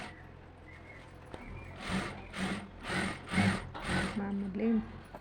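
Sewing machine stitching a blouse sleeve: about five short, evenly spaced bursts of whirring stitching, moderately close, with quiet handling sounds between them and a voice faintly in the background.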